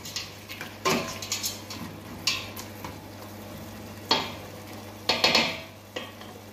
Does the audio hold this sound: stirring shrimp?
yes